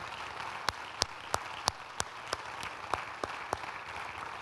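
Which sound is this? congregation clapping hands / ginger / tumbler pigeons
congregation clapping hands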